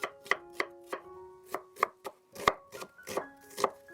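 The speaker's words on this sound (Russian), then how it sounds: "И средними кусочками режу лук." Knife chopping onion into medium pieces on a cutting board in a home kitchen, a dozen crisp, evenly spaced chops, close and clear, with no talking.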